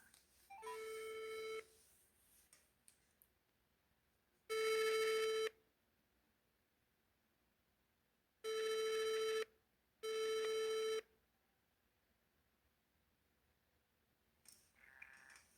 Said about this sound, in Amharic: እየጠራ